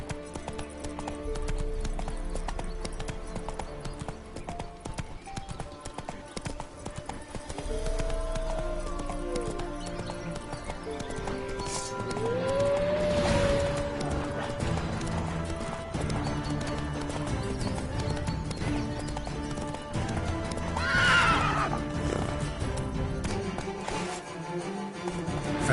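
A horse galloping in The Witcher 3 game, steady clip-clop of hooves throughout with two or three drawn-out neighs rising above it, plus a faint voice urging the horse on.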